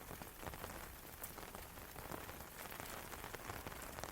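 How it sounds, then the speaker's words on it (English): Soft steady rain patters on a glamping tent's canvas overhead, a faint, even hiss of countless small drops with no talking and no break in the rainfall. "Rain drifts softly across the canvas above, a gentle sound that lingers in the air."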